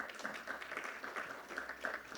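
An audience at an aviation and air cargo summit claps, a soft, fairly even patter of hands that sounds distant and faint throughout.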